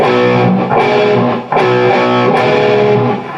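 A distorted electric guitar plays a riff, loud and close, with sustained overdriven chords changing in a steady rhythm and a brief break partway through.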